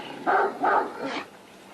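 Three loud, close barks with a short pause between them come from a Turkmen champion fighting dog, an eight-year-old winner of the 2001 national fights, with no talk over them.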